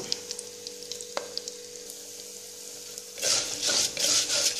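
Toor dal tipped into a hot pan with oil and whole chillies, a quiet hiss with small ticks and a clink, then a sudden loud crackling sizzle as the lentils hit the oil and are stirred.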